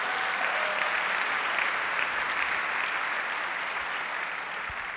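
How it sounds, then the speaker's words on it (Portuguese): A church congregation applauds during a worship service, a uniform wash of many hands clapping, steady and somewhat distant, with no talking over it. "Dá um aplauso bem forte a Jesus."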